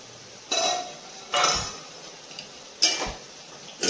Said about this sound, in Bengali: এবার ঢাকনা খুলে দিয়েছি